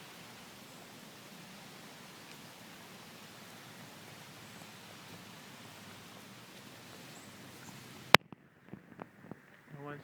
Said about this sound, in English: Can see it's raining under the sun.